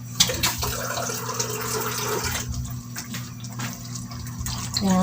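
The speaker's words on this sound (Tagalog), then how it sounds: "So, mag-add na tayo ng water ulit." Water is poured into a cooking pot of potatoes and carrots, a close, steady splashing stream with a few clinks from the pot.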